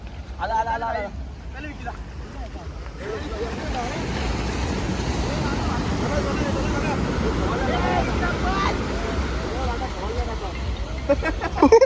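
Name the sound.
sea waves at beach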